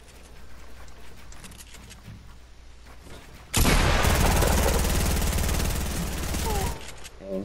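A submachine gun in a video game fires a long, loud, continuous burst for about three seconds, cutting off abruptly, after a quieter stretch of background game sound.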